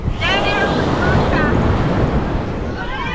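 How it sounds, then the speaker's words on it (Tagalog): Steady rush of ocean surf with gusty wind buffeting the microphone, a continuous broad wash of water noise and no clear talk. "May alon din pero hindi ganoon kalakas."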